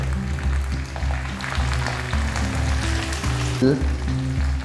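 Turmeric and powdered spices sizzle in hot oil in a small kadai, with a steady, loud frying hiss close by and occasional stirring scrapes throughout.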